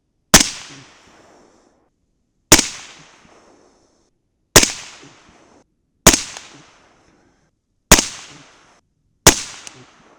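Six sharp, loud 6.5 Grendel rifle shots fired with AR-Comp powder loads and Nosler Accubond bullets, spaced about two seconds apart, each a crisp crack with a short decaying echo and no voices between them.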